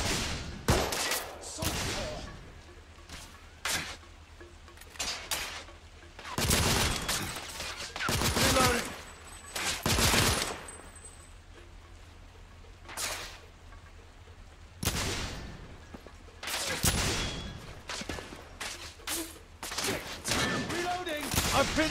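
Gunfire fills a firefight in the video game The Order: 1886, with repeated loud bursts and single shots spread across the scene and pauses between volleys. Voices are heard between the shots.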